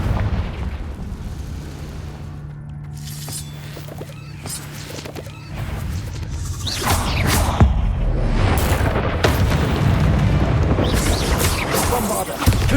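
Loud magical blasts from the Confringo spell in the Hogwarts Legacy video game, with a low rumble building into a series of booming bursts and crackles that grow denser toward the end.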